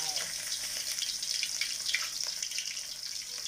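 Pla som, Thai fermented fish, dropped into hot oil and frying with a steady crackling sizzle that stays close and fairly even throughout, with no talk over it.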